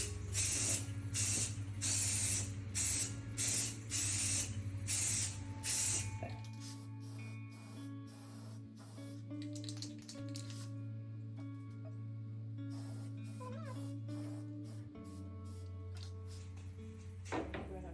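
Aerosol spray paint hisses in repeated bursts over a light-blue coastal art piece during the first six seconds, followed by a steadier low hum with faint clicks and handling noises.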